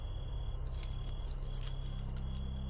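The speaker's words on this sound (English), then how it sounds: "I flipped through keys until I found the right pair" Metal keys on a ring jangling and clinking as they are flipped through one by one, bright close taps over a low steady hum, with no voices.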